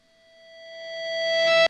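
A steady, buzzing feedback-like tone swells gradually louder over about a second and a half, then cuts off abruptly; a synthetic riser effect with no voices.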